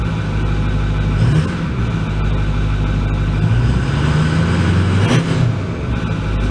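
The 6.4L diesel engine of a 2008 Ford F250 with its DPF deleted runs loud and steady under light throttle, a deep continuous drone with slight pitch swells as the pedal is touched, with no talking.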